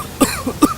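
Someone with the flu coughs twice in quick succession in an office meeting, the harsh bursts close and loud with a faint throat sound between them.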